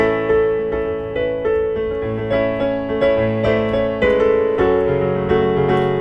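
Solo piano plays a song as a gentle melody over steady bass notes with a flowing, even rhythm, close and clear, no one speaking.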